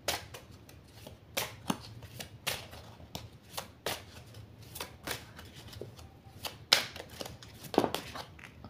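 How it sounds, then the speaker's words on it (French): A deck of tarot cards is shuffled by hand up close. A steady series of soft, crisp riffling bursts runs at an even pace, fairly quiet, with no talk over it. "je mélange un petit peu avant"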